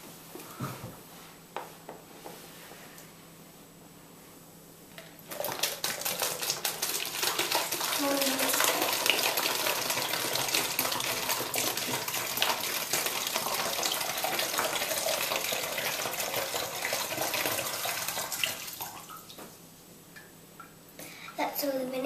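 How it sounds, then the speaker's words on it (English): Vinegar pours through a funnel into a Coke bottle, a steady rushing, gurgling stream that runs for about fourteen seconds between quieter stretches, with faint voices nearby. "we put the funnel into the Coke bottle and then pour some vinegar in"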